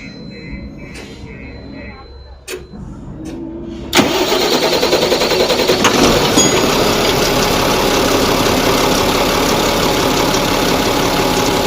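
A Mahindra Blazo BS6 M Dura tipper truck's diesel engine, throwing fault code P0344, cranks at length before catching. It then runs loud and close with a steady roar, and voices are heard beneath the cranking.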